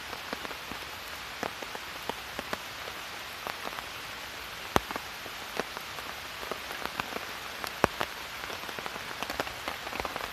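Heavy rain pours steadily onto trees and a tent in a wooded river state park, a dense close hiss broken by frequent sharp drips and louder drops tapping the fabric, with no voices.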